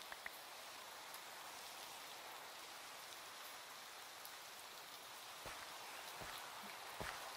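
Steady rain falls in The Crafting Dead, a soft continuous hiss with a few distinct drips and taps standing out near the end, faint and without voices.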